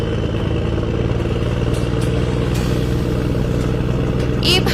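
Motorbike engine running steadily throughout in a cartoon road scene, a continuous mid-pitched drone with constant loudness and no talk over it.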